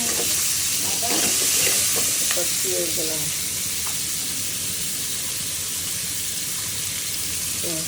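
Chili and garlic hit hot oil in a pan with a loud, steady sizzle and hiss. A few stirring scrapes come in the first seconds before the frying settles into an even roar.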